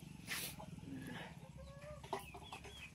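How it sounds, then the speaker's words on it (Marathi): Country chickens cluck and chatter close by on a village farm, several birds overlapping in short, irregular calls over quiet yard ambience. "हे गावरानी कोंबड्या आहेत सगळ्या."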